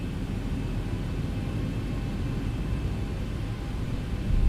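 Steady jet engine roar from a Boeing 737 in X-Plane 11 powering up for taxi toward the runway, a continuous low rumble and hiss holding even and rising slightly at the end, with no other sounds.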